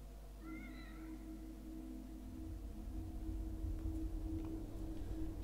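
Save-point cat in The Evil Within meows a few times early on, a brief high trilling call over a steady low game ambience hum that swells slightly toward the end.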